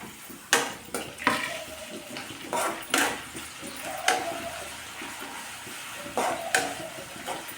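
Soft sizzling in a pan punctuated by repeated clinks and scrapes of a utensil stirring, close up, with no talking.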